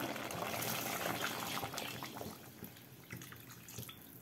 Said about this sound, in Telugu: నీళ్ళు వస్తున్నా.